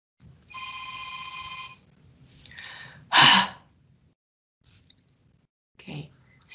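A mobile phone rings briefly in a quiet room, a steady electronic tone lasting about a second, followed by a few faint rustles and a breathy noise.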